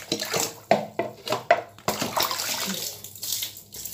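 Water splashes and runs from a tap while a dog's mouth is washed during teeth brushing, with uneven bursts of splashing and pouring, fairly close, and no talking.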